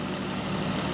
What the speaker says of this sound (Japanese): あのままアイドリングで放置しました